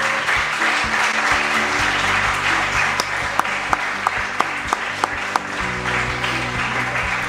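An audience at a diploma ceremony claps steadily throughout, a dense wash of applause with a few sharper individual claps standing out near the middle.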